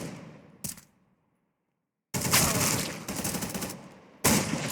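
Gunfire in the video game Counter Mines comes as loud close bursts of rapid automatic shots, broken by a sudden silent gap before two more sustained volleys.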